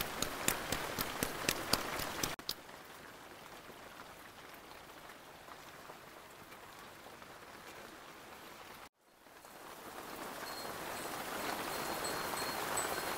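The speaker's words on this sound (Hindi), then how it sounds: "बाहर देखिए कितनी तेज़ बारिश हो रही है" Heavy rain pours outside a hillside hermitage hut in Chitrakoot as a steady, dense hiss. A few rhythmic taps come at the start, and the rain cuts out briefly before resuming fuller.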